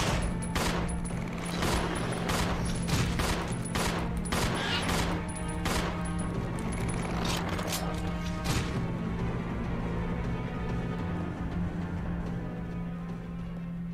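Resident Evil Zero gunfire during a fight with two hunters: a dense run of loud, sharp shots and impacts fills the first several seconds, then thins out over a steady droning game background.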